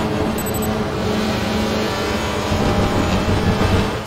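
A WTCR touring race car braking in fifth gear at Slovakiaring, a loud, steady engine roar with broadband tyre and wind noise that holds throughout without any voice over it.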